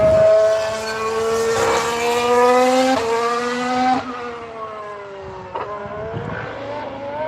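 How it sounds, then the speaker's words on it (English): A Ferrari Formula 1 car screams past on the circuit during testing, loud high-pitched engine note with clear upshifts, then fading away as it recedes into the distance. "Through comes the Ferrari."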